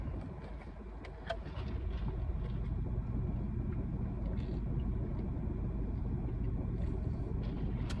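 Old-school Cadillacs cruise past on a North Minneapolis street, a steady low engine and road rumble holding through the whole stretch with faint outdoor noise and no talk.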